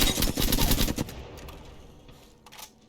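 Rapid automatic gunfire in the video game Apex Legends: a loud, close burst of shots for about a second, then quieter scattered shots and a decaying tail.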